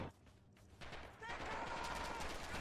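Rapid gunfire in the World War II video game Red Orchestra 2 multiplayer: a faint burst, then a sustained dense volley of overlapping shots from mid-distance, fairly quiet overall.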